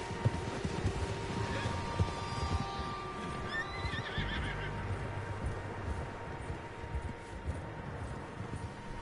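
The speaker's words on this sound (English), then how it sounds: "Horses, quite a few of them." Several horses in The Last of Us, a video game, neigh and whinny at moderate distance over a steady outdoor ambience. Hooves clip-clop now and then, and one clear whinny rises in the middle.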